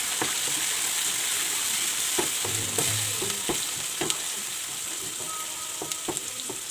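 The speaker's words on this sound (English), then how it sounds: "I'm going to add the tomatoes that we blended" Blended tomatoes poured onto sautéed onions in a hot pan, giving a strong steady sizzle broken by stirring knocks and scrapes, no talking heard.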